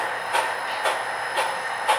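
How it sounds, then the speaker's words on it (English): An HO scale model train runs along a home layout, its wheels giving a steady, evenly spaced clicking roughly twice a second over a continuous mechanical whir, close and moderately loud with no voices. "Our train is reappearing, and it's at the town of Harvey's Lake."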